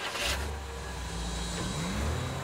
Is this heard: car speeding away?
yes